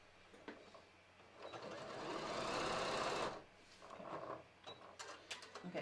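A sewing machine back tacking a seam, its needle chattering rapidly in a steady burst that speeds up, holds, then stops, followed by softer clicks and handling noises, all quiet and close.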